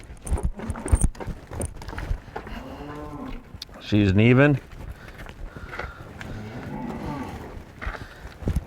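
A cow moos loudly with one long bellow in the middle, during low-stress livestock handling, while a handler talks through the clip with soft movement in the background.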